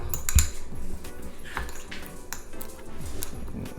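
Garlic, rosemary and butter being mixed together in a bowl for a beef tenderloin steak, giving a series of close clinks and scrapes of utensil against dish with no talking.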